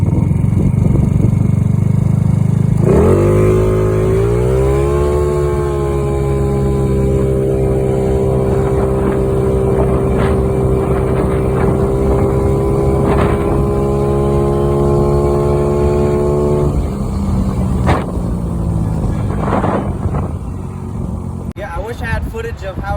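A GY6 scooter engine, a 50cc Tao fitted with an 80cc big bore kit, revs up sharply and then holds a steady, loud, buzzing drone for about fourteen seconds before easing off, with a brief tail of lower running noise.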